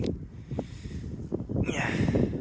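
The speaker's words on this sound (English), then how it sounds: "Okay, it really is breezy." Steady breeze buffeting the microphone on a pier, a continuous low rumbling roar with gusts swelling and easing, no talk.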